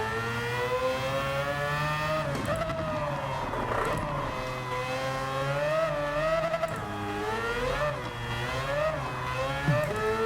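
Mazda RX-7 with a turbocharged rotary engine in Gran Turismo 7, revving steadily at full throttle with a buzzy, choppy tone that rises and falls with gear changes and wheelspin, loud and continuous throughout.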